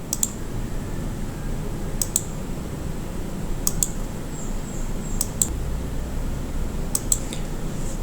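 Mouse clicks while stepping through a Windows server installation wizard, a few sharp, close, isolated clicks in pairs over a steady low hum.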